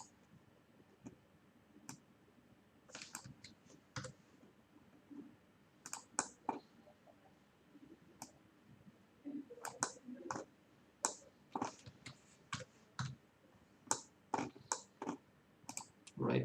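Computer mouse clicks in a quiet room while modelling in 3ds Max, sharp isolated clicks close to the microphone, irregular and sometimes in quick pairs, with faint low speech in places.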